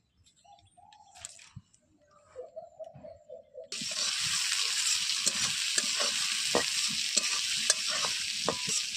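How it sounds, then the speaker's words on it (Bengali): Bay leaf and onion hit hot oil in a wok over a wood-fired stove, bursting into a loud, steady sizzle with occasional stirring knocks, after a few seconds of quiet birdsong nearby. "তেল দিয়ে ফোড়নে তেজপাতা আর পেঁয়াজ দিয়ে দিলাম।"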